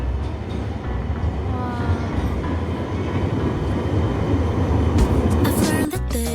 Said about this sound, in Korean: 트램 온다, 트램.